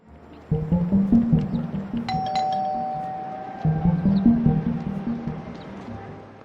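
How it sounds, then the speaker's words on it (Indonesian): House doorbell chimes twice, two ringing tones near the middle of the clip, clear and prominent over a background of music and rustling noise. "Tak berselang lama, bel rumah Annalyn berbunyi."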